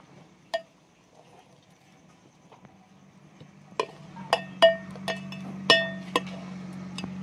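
A metal spoon clinks against a heavy pot while breaking up lumps of boiled rice-flour dough for ukadiche modak, a series of sharp, close taps at an uneven pace, growing busier toward the end over a low steady hum.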